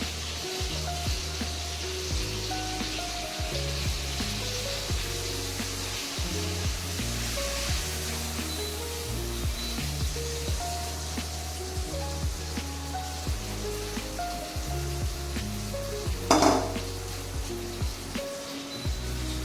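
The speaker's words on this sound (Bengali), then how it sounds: "আমি ভাজতে গেলে মাছ মানে একদম উঠে আসে, ছালটা উঠেই গেল" Fish frying in a pan, a steady crackling sizzle with soft popping throughout and a brief louder spatter near the end.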